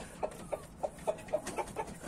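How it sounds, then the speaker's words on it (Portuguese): A black brooding hen in an aviary clucks in a steady, evenly spaced run of about seven short, soft clucks, close by, with no talk over them. "A galinha preta tá chocando"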